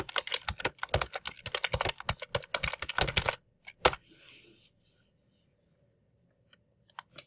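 Quick bursts of keystrokes clatter on a computer keyboard up close for about three seconds, followed by a couple of isolated clicks and then near silence.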